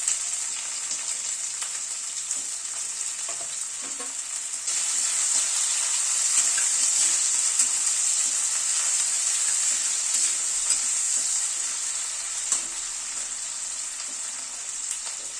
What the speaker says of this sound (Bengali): পেঁয়াজটাকে 1-2 মিনিট একটু নাড়াচাড়া করে হালকা করে ভেজে নিলাম